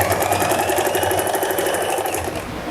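A sewing machine runs continuously as it stitches elastic into trouser fabric, giving a loud, close, rapid, even whirring chatter that eases off slightly at the end.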